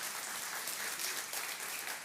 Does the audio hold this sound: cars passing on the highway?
no